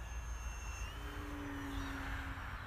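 A Top RC Lightning 1500 model jet flies at just above half throttle, a faint, steady turbine whine with a slowly shifting pitch heard from a distance over low background rumble.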